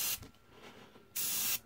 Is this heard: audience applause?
no